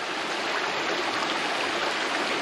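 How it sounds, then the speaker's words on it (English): A small woodland brook trickles steadily on the way to Munising Falls in Michigan's wilderness, a close, continuous wash of running water with no voices. "hopefully you can hear the sounds of the trickling water"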